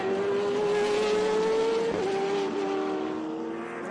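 A green Ferrari 458 GT2 race car drives past on the track at a historic racing reunion, its loud engine note holding steady and then wavering briefly as it goes by, with no voices.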